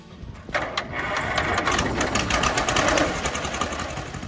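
A 1941 John Deere LA tractor engine runs with a fast, even, rattling putter that starts abruptly and carries on steadily at moderate volume, with no talk.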